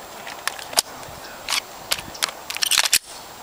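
Pistol slide racked several times while clearing a stoppage one-handed, a series of sharp metallic clicks and clacks in quick irregular bursts, close and alone.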